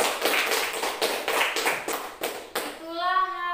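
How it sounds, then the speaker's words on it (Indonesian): A school class claps in applause for the first group after its news-writing presentation. The clapping is steady and dense with children's voices underneath, and it stops abruptly when a teacher starts speaking. "beri aplaus dulu untuk kelompok"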